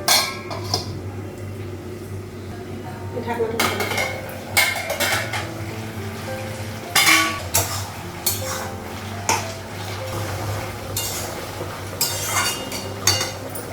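A metal lid comes off a pot of fish curry in a home kitchen, with several close, sharp clanks and clinks of metal cookware spaced unevenly over a quiet background, and no talking.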